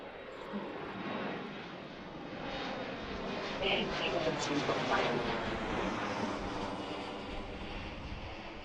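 An airplane arriving to land at Washington Reagan National Airport, its engine roar a steady, broad rumble that swells slightly mid-clip as it passes, heard from a moderate distance with windy air around and no talk.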